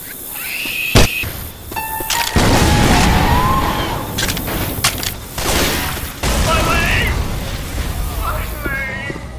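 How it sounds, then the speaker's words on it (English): Grenade launcher fire and heavy explosions in Left 4 Dead 2: loud booming blasts and a thick wash of chaotic gunfire and impacts, with voices shouting and talking throughout. "Got a grenade launcher."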